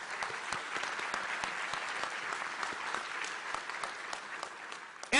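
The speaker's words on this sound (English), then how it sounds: "So a quick round of applause for our food service staff." An audience at an education award ceremony gives a round of applause for the food service staff, a steady wash of clapping that holds for several seconds, fairly close and full.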